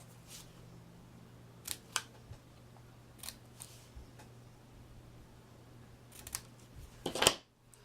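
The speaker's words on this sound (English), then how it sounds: "Cut a little banner on the end." Scissors snip through a paper banner for a handmade card, a few spaced crisp cuts in a quiet room, ending in a louder cluster of close snips.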